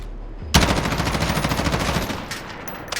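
Sustained automatic gunfire in a first-person video game, fired without recoil control at 80 FOV: a rapid, loud, even stream of shots bursting in after a short quiet lead-in and running close up for over two seconds before a few trailing pops.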